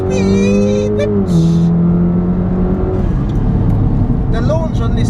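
A 380bhp Volkswagen Golf R launches hard, its engine loud and close as it revs up, drops on a gear change and keeps pulling, with a voice talking over the roar.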